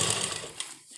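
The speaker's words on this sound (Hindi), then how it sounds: "अपनी इलास्टिक को पूरा हमें खींच के रखना है और इस तरह हमें सिलाई लगाते जाना है।" A sewing machine stitches stretched elastic onto a trouser lining, a brief close, dense whirring run that tapers off toward the end.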